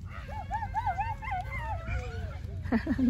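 A small dog yips and whimpers in short high-pitched bursts, fairly quiet, with a couple of sharper barks at the end over faint background noise.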